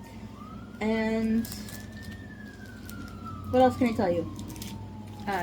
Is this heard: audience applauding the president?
no